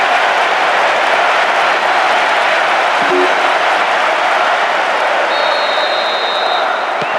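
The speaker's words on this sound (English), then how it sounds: "The capacity crowd are enjoying the goal celebration." A capacity stadium crowd at a Manchester United versus Real Madrid football match roars after a goal, a steady, loud wash of cheering and applause that holds without a break.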